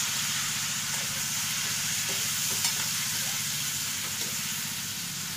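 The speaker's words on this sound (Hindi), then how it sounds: "अब इसमें हम ये कटे हुए टमाटर डाल देंगे और टमाटर डालकर गैस का फ्लेम हाई कर देंगे।" Chopped tomatoes sizzle and roast in a pan of masala over a high gas flame for paneer butter masala, a loud, continuous hiss with faint rhythmic stirring scrapes throughout.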